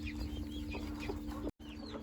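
A Japanese bantam, a small ornamental chicken breed, clucks softly and continuously at close range for about two seconds, with a brief dropout near the end.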